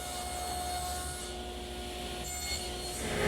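Table saw cutting tenon shoulders in wood with the blade set low: a steady whirring blade hum with a faint buzzing rasp of the cut, at moderate level with no talk.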